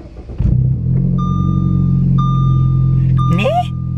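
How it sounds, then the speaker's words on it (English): A car with a straight-piped exhaust and its resonator removed, its engine rumbling steadily and loud for several seconds, with a high tonal whine over it and a short burst of chirping near the end. "recently I just straight piped my car and I cut off like my resonator, so my car's a little bit louder."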